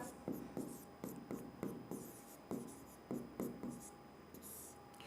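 Chalk or marker strokes on a board during a biology lesson on eukaryotic RNA, about a dozen quick scratchy taps in an uneven rhythm, fairly quiet and close, with no speech.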